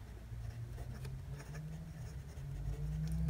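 A brass fountain pen with a medium nib writes on paper with Diamine Burnt Sienna ink, giving soft, close scratchy strokes in a quiet room, faint but steady with small ticks between strokes.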